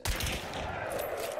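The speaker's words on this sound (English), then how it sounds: "let's see if we can get a headshot and kill him instantly" A gunshot in the video game Hunt: Showdown, a single loud close blast at the start that decays into a rumbling echoing tail over about a second.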